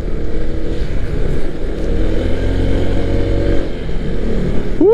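Honda ADV 160 scooter climbing a steep hill on a touring ride behind another motorcycle, a steady loud engine drone with wind rush running throughout.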